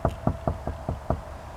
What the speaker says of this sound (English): Mimi heard a knock at her door